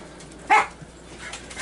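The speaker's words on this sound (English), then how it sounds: "Barking at both ends of the house." A single dog barks once, short and at middle distance, inside a house, then quiet background noise follows.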